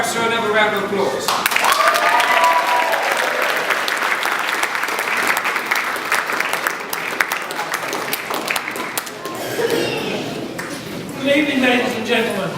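An audience claps steadily at a presentation evening at Woolwich Barracks, a dense, sustained round of applause that fills the room, with a voice speaking over it at the start and again as it fades.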